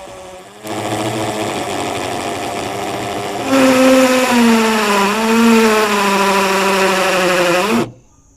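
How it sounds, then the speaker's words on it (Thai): A Bonya cordless drill running in concrete hammer mode with a 10 mm bit, a loud close whirring motor that starts abruptly, rises in pitch and intensity partway through as it bites, then cuts off sharply. "อันนี้เป็นโหมดเจาะ คอนกรีตนะครับ"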